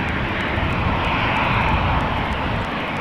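A Boeing 737-800 airliner bound for Warsaw powers along at Schiphol, its jet engines producing a loud, continuous, dense roar that stays even from start to finish, alone without any talking.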